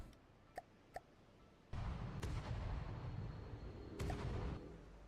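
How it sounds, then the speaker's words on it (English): Platform gun in From The Depths firing shots: two sharp, short reports ring out, then a long loud blast and rumble, ending with another burst and a roar that gradually fades. "I fire a couple shots here."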